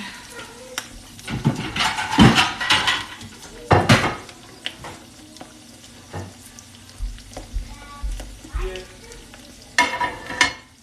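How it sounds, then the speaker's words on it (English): Pork cutlets sizzle and crackle in a frying pan with bursts of louder spattering, along with clinks of utensils against the pan. "You want to hear a nice sizzle when you're trying to fry."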